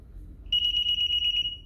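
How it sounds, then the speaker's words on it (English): A DSC alarm panel beeps to confirm communication, a quick even series of loud, sharp, high electronic beeps close by, with no talking. "it should be beeping to confirm communication here in a moment"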